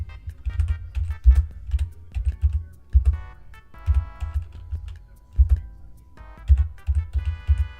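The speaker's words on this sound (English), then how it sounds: "God, I am a slow typer." Someone types on a computer keyboard, close and clear, with irregular bursts of key clicks and heavier thumps separated by short pauses.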